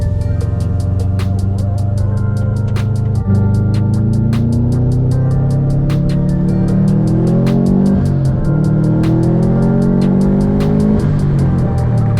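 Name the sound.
car driving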